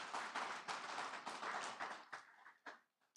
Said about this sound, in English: I think the president deserves a round of applause for that.